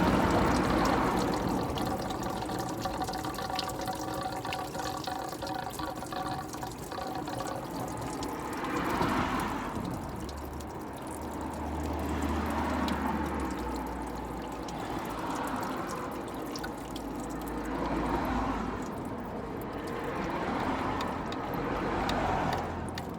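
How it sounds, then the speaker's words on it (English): Coolant drains steadily from the radiator of a Citroen C2 1.1 into a tray below, a continuous liquid pour that runs for the whole stretch, close by with slight swells in flow. "Raining out of the radiator"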